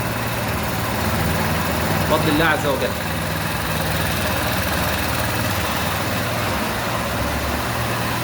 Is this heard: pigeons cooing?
no